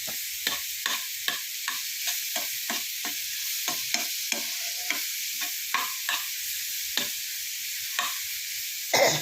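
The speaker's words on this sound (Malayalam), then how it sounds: "കുറച്ച് നെയ്യ് ഒഴിച്ച് വഴറ്റിയെടുക്കാം" Apple pieces sauté in ghee for apple payasam, with a soft continuous sizzle. Regular scraping stirs against the pan come in quick succession throughout.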